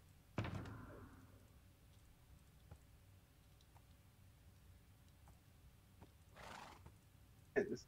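A Minecraft horse whinnies during taming, a sharp neigh at the start and another near the end, with faint clicking game sounds and a brief swishing burst between them.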